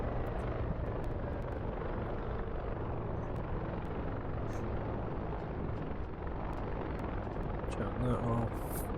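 An AH-6J helicopter winds down on an airfield in a military video game, its rotor blades producing a steady rumbling whoosh that fills the clip, with faint clicks on top.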